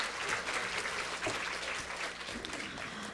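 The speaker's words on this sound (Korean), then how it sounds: "큰 박수 부탁드립니다." After a lecture to parents of incoming high school freshmen about the curriculum and credit system, the audience breaks into sustained, even applause that fills the hall and fades slightly toward the end.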